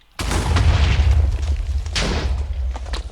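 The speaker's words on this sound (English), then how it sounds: "And there goes the exploding." Modded Minecraft explosion: a sudden loud, deep boom that hits abruptly and rumbles on for nearly three seconds, with a few smaller crackling pops in the decaying roar.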